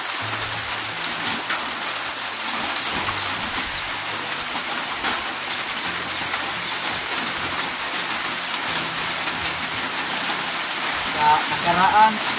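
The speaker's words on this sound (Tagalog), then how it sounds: "Ngayon dito sa amin, umambon-ambon na naman. Hindi gaano malakas." A light drizzle of rain falling over a yard, a soft steady patter that carries on throughout with faint background noise and a brief louder rustle near the end.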